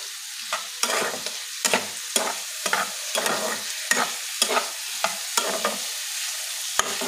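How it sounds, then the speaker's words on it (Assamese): Pomfret fish curry with cumin and coriander powder being stirred in a pan, a spoon scraping in a steady series of close, distinct strokes over a soft sizzle, with no talking. "লৰাই দিছোঁ।"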